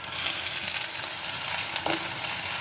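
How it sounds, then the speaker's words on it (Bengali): Chopped onions fry in a pan over medium-low flame for Gobi Manchurian, making a steady close sizzle with a faint stir partway through, no voices. "এরপরে দিয়ে দেব পেঁয়াজ কুচি।"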